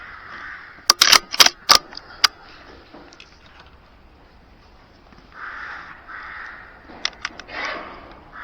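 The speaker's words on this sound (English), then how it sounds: "Next into the shed was a couple of rooks" Rooks caw inside a cattle shed in a burst of several harsh, close calls, then quiet, then another cluster of loud caws toward the end, with soft shuffling and low background rumble between.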